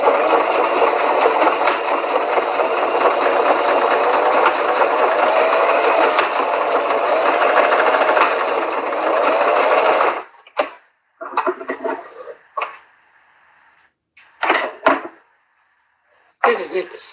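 A sewing machine stitches the edge of fabric pieces together, running steadily for about ten seconds and then in several short bursts with pauses between them.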